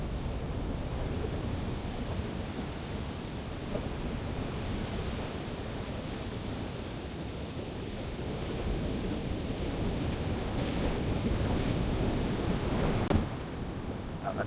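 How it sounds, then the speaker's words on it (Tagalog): Large ocean waves break on the beach at Dingalan, Aurora, a loud continuous roar of surf mixed with wind buffeting the microphone, swelling slightly toward the end, with no voices. "Lalaki pa rin ang mga alon."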